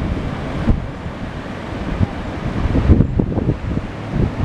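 Floodwater rushes over the riverbanks near a lake in Burlington, Wisconsin, a broad turbulent wash mixed with gusty wind buffeting the microphone, rising and falling unevenly with a few sharp bumps.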